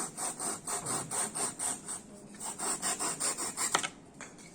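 Hand-sawing foam for a mouse model, with a rapid, steady back-and-forth rasp of about fifteen strokes that stops near the end, close and moderately loud.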